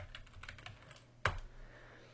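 Keyboard typing as a word is entered into a web design program: a quick run of soft, close keystrokes, then one sharper, louder key click, with no voices.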